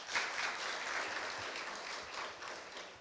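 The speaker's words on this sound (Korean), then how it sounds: "감사의 큰 박수 부탁드립니다" Audience applause at a Korea University campus town fair ceremony, sustained steady clapping from a crowd across the whole stretch with no voices over it.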